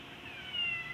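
A cat gives a single fairly faint, short meow that rises from a quiet background.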